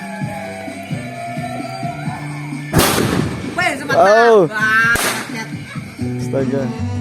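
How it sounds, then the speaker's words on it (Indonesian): A kerosene-fuelled bamboo cannon fires outdoors, two loud sharp booms a couple of seconds apart, with people talking and exclaiming around and between the blasts. "Karena di sini sudah ada meriam bambu yang sudah siap diledakkan."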